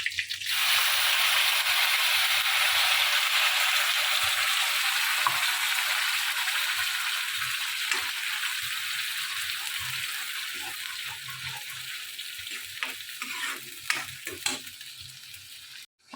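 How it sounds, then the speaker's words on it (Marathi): A spice paste fries in hot oil in a wok with a loud, continuous hiss that slowly fades, then a few stirring clatters near the end; no talking. "तेलामध्ये आता मी घालत आहे तेच पान त्याच्यानंतर हे जे वाटण करून ठेवलेलं आहे ते घालत आहे"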